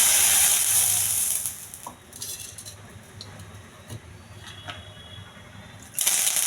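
Cooking oil sizzles steadily in a hot pan on the stove while a mushroom curry is being started, loud and close at first, then softer, with a few light clinks of a utensil against the pan.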